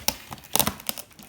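A plastic sleeve holding stickers crinkles and crackles in a few sharp, close bursts with short gaps between them, quiet overall and with no talking.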